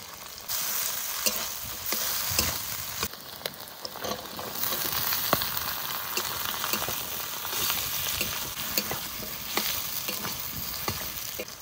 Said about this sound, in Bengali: মাছের তেল একটু ভেজে নিয়েছি, এবার কুচানো আলুগুলো দিয়ে দেবো।